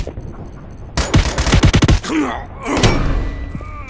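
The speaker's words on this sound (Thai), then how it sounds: "ยิงมันครับยิงมัน" Bursts of gunfire crack in rapid succession in the survival game Lost Light, a dense volley followed by heavy thuds and a lingering rumble, loud and close with a brief voice underneath.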